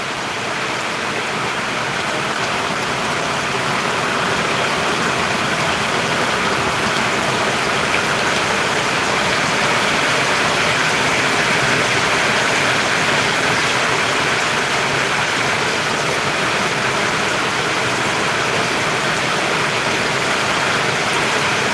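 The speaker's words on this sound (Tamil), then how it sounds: "மழையை பாருங்களேன் சூப்பராக மழை பெஞ்சிட்டு இருக்கு" Heavy rain pours down in a dense, steady hiss in Valliyur, loud and unbroken throughout, with no voices.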